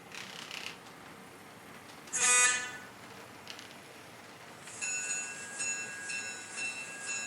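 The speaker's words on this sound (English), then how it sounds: "so we can keep driving trains." A model train runs on a layout track: a quiet background rumble with a brief sharp whistle-like toot early on, then a steady tonal hum and chugging toward the end, fairly faint overall.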